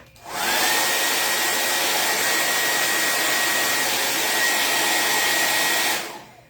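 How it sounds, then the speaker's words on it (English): Hair dryer blowing steadily on freshly painted chalk-paint designs on a decorative throw pillow, a loud even whoosh with a faint whine that switches on, holds for about five seconds and cuts off. "but just by blow drying it"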